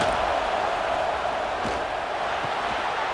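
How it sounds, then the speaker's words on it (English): A stadium crowd in the football game EA Sports College Football 26 roars as a steady, dense wash of noise, loud and unbroken throughout with no clear individual voices. "this crowd is fired up. Listen to this noise here."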